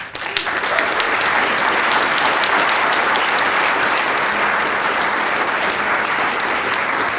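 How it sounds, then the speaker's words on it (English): A large crowd at a science-communication competition final gives loud, sustained applause, a dense wash of clapping that holds steady for about seven seconds, with faint murmuring voices mixed underneath. "So please give them all your biggest round of applause"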